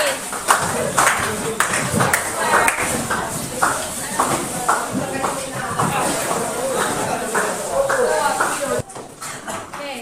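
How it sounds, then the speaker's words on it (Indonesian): Audience in an Indonesian classroom-style counselling session clapping hands together, a steady scattered patter of claps running under ongoing speech for most of the stretch before fading near the end. "kasih tepuk tangan dulu untuk kita semua"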